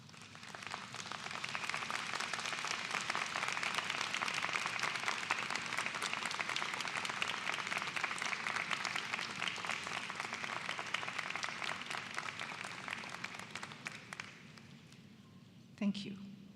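Broad, sustained applause from a standing university convocation audience, a steady dense clatter of many hands that tapers off near the end, followed by a brief thump.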